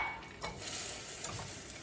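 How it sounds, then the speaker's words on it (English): Butter and packed light brown sugar are stirred together in a pot, a soft continuous scraping and swishing with a faint sizzle, close by, with a couple of slightly louder strokes and no talking. "And we're going to stir that together. We want the butter to melt and the sugars to be incorporated."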